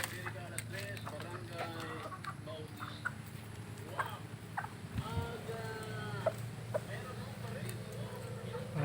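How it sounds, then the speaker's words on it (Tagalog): Chickens cluck and squawk intermittently at a distance, scattered calls over a low background hum, with people talking faintly nearby. "mga manok."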